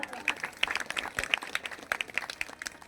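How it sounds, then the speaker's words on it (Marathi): An audience at a devotional Bhagavat discourse claps for the women's group, producing faint, uneven applause with scattered sharp claps and a murmuring crowd beneath. "म्हणून या ठिकाणी आमच्या महिला मंडळासाठी तुम्ही एकदा जोरदार टाळ्या वाजवा."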